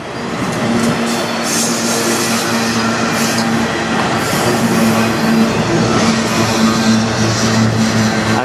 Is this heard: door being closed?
no